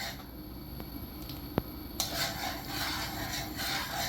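A utensil scrapes and stirs through thickening General Tso's chicken sauce in a pan over high heat. The steady, close rubbing carries soft sizzling and a couple of sharp metallic clicks.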